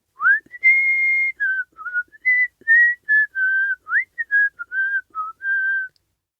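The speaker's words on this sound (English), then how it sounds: "The next morning a man walked past the shop whistling." A man whistles a lively, wandering tune alone, a clear series of short and held notes rising and falling over about six seconds against silence.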